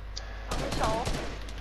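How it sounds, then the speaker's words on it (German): A burst of rapid video game gunfire crackles out after a brief quiet moment, loud and sustained for about a second before tailing off. "Ich höre Schüsse innen!"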